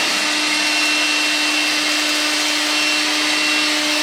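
Makita cordless vacuum fitted with a cyclone dust attachment sucking up sawdust, a steady loud high-pitched whine with a constant airflow hiss, running alone without talk.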